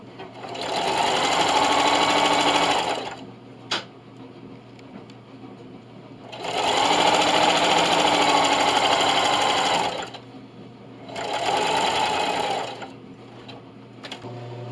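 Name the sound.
sewing machine stitching in the ditch of a hotpad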